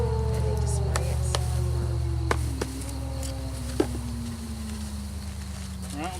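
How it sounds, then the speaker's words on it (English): Thousands of honey bees buzzing inside a package box during a hive installation, a steady low drone close by, with occasional sharp clicks and a tonal hum sliding down over it. "There's thousands of bees."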